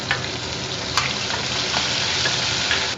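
Curry leaves frying in hot oil for narinja kaya rice, a loud dense continuous sizzle with sharp crackling pops close by.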